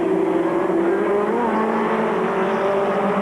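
Midget race cars roar around the oval at Flat Rock Speedway in a 1998 ARCA Lincoln Welders series opener, a loud continuous engine drone with shifting pitch as the pack races, no talk.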